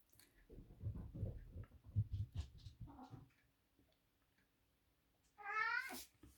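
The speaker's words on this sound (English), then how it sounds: "That's my cat you can hear," A pet cat named Sammy, soaking wet from rain, meows indoors near the end, a short rising cry following soft rustling and quiet movement in a calm room.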